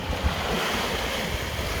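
Sea waves wash onto a sunny beach as a steady, broad surf roar, with wind buffeting the microphone throughout.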